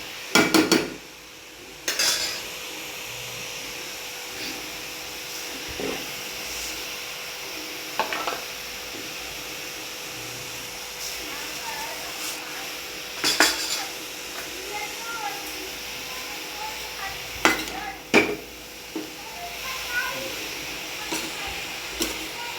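Grated carrots roast in ghee in a pan for carrot halwa while a spoon stirs them, with sparse metallic scrapes and clinks over a faint, steady sizzle. A muffled voice may sit in the background.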